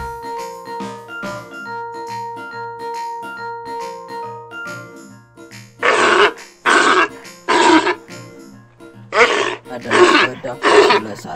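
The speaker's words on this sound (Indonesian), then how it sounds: "Ini singa si raja hutan, sang pemangsa." A lion gives a series of six short, forceful roaring grunts in a rhythmic run, loud and close, following a stretch of plucked background music that continues underneath.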